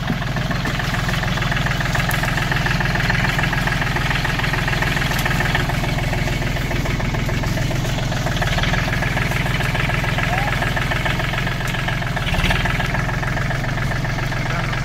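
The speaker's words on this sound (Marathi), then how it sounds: "ट्रॅक्टर आता परत आलेलं आहे आणि आता आपण परत रिटर्न जातोय ट्रॅक्टर घेऊन" A tractor engine idles steadily and loudly in a custard apple orchard, with a constant low chugging rumble that barely changes from start to finish.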